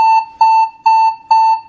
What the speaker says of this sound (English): the confirmation, once you're in it, is a 5-tone sequence